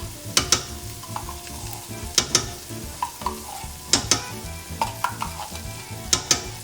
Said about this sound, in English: they've been sauteing for about 5 minutes now